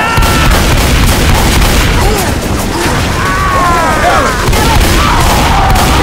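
Gunfire and explosions in Left 4 Dead 2, loud continuous booming and rattling shots with crashes, dense and relentless, while voices shout over the chaos.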